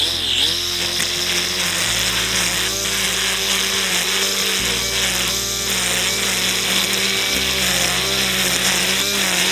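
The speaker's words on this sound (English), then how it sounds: "I'll start by taking the string trimmer and trimming right down to soil level any weeds that are growing in the" A string trimmer buzzes continuously at close range, cutting weeds down to soil level along a hillside garden pathway, its whine shifting slightly in pitch as it bites into growth, with no talk.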